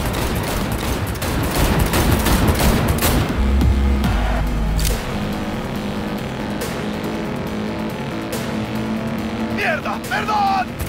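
Gunfire during a car chase in Cyberpunk 2077 comes as dense rapid bursts over a droning engine, loud at first and then sparser, with characters shouting throughout.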